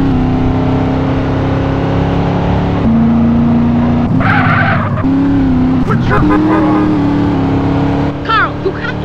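A car in GTA: San Andreas pulls away with a brief tyre squeal and skid, engine droning steadily under background music and a voice.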